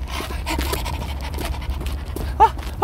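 Quick, breathy panting from a person imitating a puppy, close up and rhythmic, with a short squeaky whine near the end.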